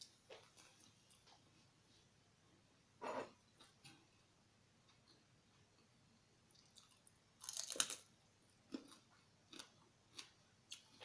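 Crunchy beef tripe larb salad is chewed close to the mic in quiet, sporadic bites, with sharp crisp crunches separated by pauses and a cluster of louder crunches midway.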